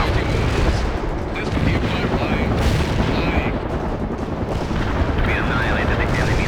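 An artillery strike in the World in Conflict video game lands as dense, continuous rumbling blasts and crackling explosions, loud and sustained throughout, with radio-style voices faintly mixed in.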